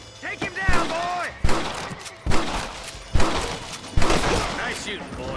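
Gunshots in Red Dead Redemption on PS3: about five sharp, loud reports spaced roughly a second apart, each with a brief echoing tail, while voices talk between the shots.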